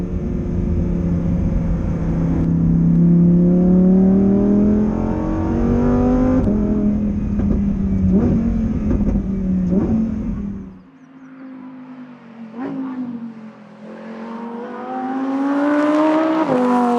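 A Lamborghini Huracán Performante engine revs hard on downshifts, its loud rising and falling tones blipping repeatedly, then easing briefly before climbing again, heard close from inside the car with no talk.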